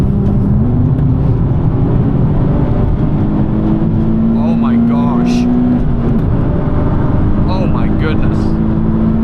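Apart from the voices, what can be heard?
tuned Nissan 370Z engine accelerating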